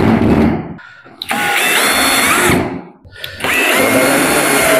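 A lightweight drill, 0.95 kg without battery, drives screws into a gypsum partition board, giving three loud sustained whirring runs with short pauses between, each one starting and stopping sharply and recorded up close.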